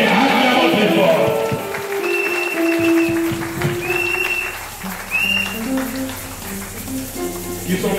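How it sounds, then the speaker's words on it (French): A church congregation clapping and cheering loudly in a dense burst of applause that fades out over several seconds, with voices and music rising beneath it. "Acclamons très fort."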